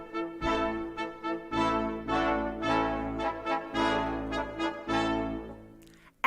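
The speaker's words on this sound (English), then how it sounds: "In the brass section, we have horns, trumpets, trombones, and the big guy, the tuba." A brass section of horns, trumpets, trombones and tuba plays together in a series of bright, sustained chords and short swelling phrases, fairly soft and clear with no talking.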